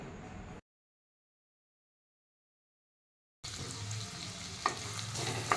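Chopped onion and a bay leaf frying in hot oil in a pan for a spicy mutton liver fry, heard as a close, steady sizzle with a few stirring knocks, broken by a long stretch of complete silence.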